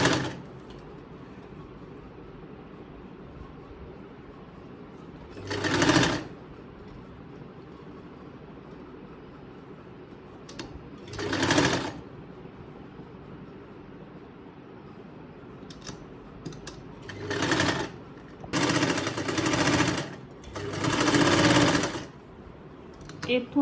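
A sewing machine stitching a salwar runs in several loud bursts of rapid whirring, separated by quieter pauses with faint background hum and occasional speech.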